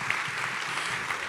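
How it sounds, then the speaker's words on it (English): Applause from a live concert audience, a brief, dense patter of many hands clapping at a steady level with no voices over it. "Another round of applause."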